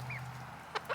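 Young chicks, fluffy black ones among a small backyard flock, give a couple of brief high cheeps and clucks over a low steady hum, faint and close.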